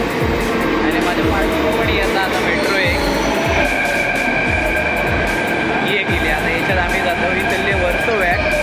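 A Mumbai metro train runs steadily with a continuous rumble and rhythmic wheel clatter on the rails, a sustained hum above, loud throughout.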